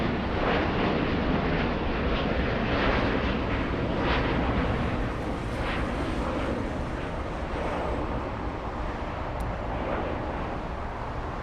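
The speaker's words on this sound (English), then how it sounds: "Takeoff is going to Narita." An airliner takes off from LA bound for Narita, a continuous broad jet roar sustained and loud throughout with no pauses, steady in level as the engines hold power.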